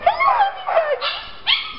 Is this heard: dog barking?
yes